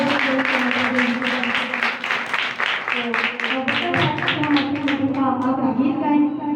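A church congregation at a Sunday morning service in Pakistan applauds for Father's Day with loud, steady clapping that lasts throughout, while a voice speaks over it.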